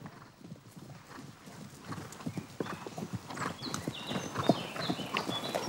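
A horse's hooves clip-clop steadily over grass and sand, a close, quick rhythm of soft thuds that grows a little louder, with faint bird-like chirps toward the end.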